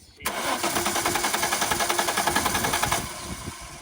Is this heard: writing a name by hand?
no